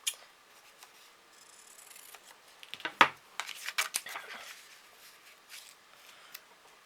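Scissors snip through a card for a card-making challenge, a cluster of crisp close cuts around the middle with lighter rustling of paper before and after, no talk.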